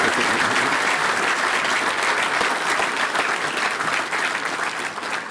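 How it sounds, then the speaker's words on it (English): A crowd applauds a head football coach at an outdoor groundbreaking for a university indoor performance facility, a dense, steady wash of clapping that stays loud throughout and fades only slightly toward the end. "So let's give him a round of applause."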